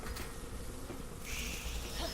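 A low, faint buzzing of bees from the video game Resident Evil 6, steady and close, with a hissy wash of background noise and no voices.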